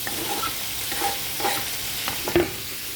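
Tomatoes stir-frying with ginger and garlic in a pan give a steady, close sizzle broken by a few scraping stirs of a spatula across the pan.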